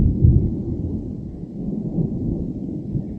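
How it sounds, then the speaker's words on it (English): An afternoon thunderstorm in Darwin rolls out a steady, low thunder rumble that swells slightly near the start and then holds as a continuous deep roar, with no voices. "a nice afternoon thunderstorm in Darwin"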